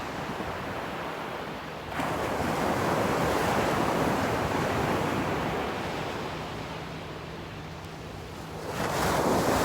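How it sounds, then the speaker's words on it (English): Ocean waves surge and wash in close, a loud roaring swell that builds, recedes slightly and rises again, with some wind buffeting and no talk. "you guys can just enjoy listening to the waves."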